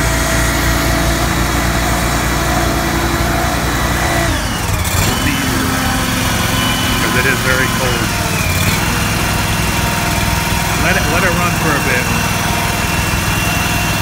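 A fuel-injected lawn mower engine turns over and settles into a loud, steady idle up close, with a brief change in pitch midway and people talking over it.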